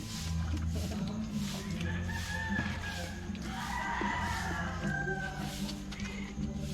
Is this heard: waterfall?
no